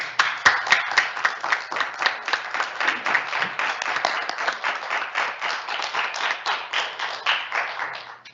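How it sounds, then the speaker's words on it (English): Applause from a small group of about a dozen people at a regular board meeting, a steady patter of hand claps lasting several seconds, fairly close and even, with no talk over it. "So we'll give y'all an applause."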